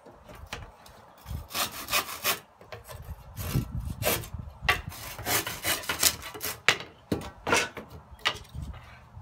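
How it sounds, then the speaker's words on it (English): A hand saw rasps back and forth through wood in rhythmic strokes, close and fairly loud, with brief pauses between runs. "Give it a cut. All you need is a saw."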